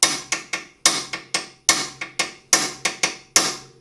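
Sharp metallic hammer taps strike a ball joint stud on the suspension of a Mercedes SLK32 R170 or Crossfire SRT-6, about a dozen close, loud hits in quick groups of two and three, each ringing briefly.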